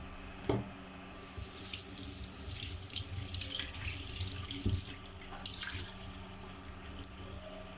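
Water runs steadily from a kitchen sink tap, a continuous hissing splash that lasts throughout, with a faint clink near the start.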